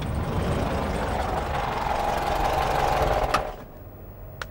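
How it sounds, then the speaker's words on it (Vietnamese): Car engine arriving and idling, a steady close mechanical rumble with a rattling hum that holds for several seconds and then drops off quickly. "xe tới rồi"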